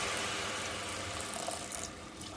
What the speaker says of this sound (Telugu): ఇప్పుడు ఇందులో తగినంత వాటర్ వేసుకోవాలి.